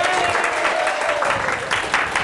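An audience breaks into loud, continuous applause during a children's cooking segment making ants on a log. The clapping is dense and sustained, with a faint voice underneath.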